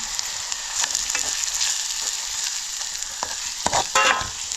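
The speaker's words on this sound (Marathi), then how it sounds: "कांदा चांगला लालसर करून घेऊया" Onion frying until browned in a village kitchen before crab curry with goda masala, a strong, even hiss of hot oil with occasional louder stirring clatters near the end.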